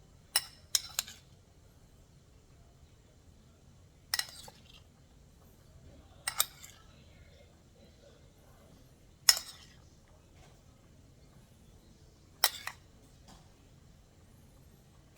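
A spoon mixing mushrooms in a bowl, heard as a handful of sharp, isolated clinks spaced a few seconds apart against a very quiet background.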